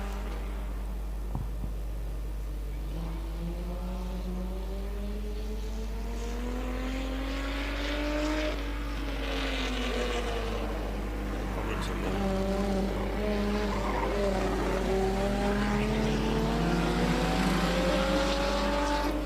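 Stock cars in a regional border race roar around a circuit together, a loud sustained engine drone with rising and falling harmonics as the pack accelerates, with an announcer talking over the noise.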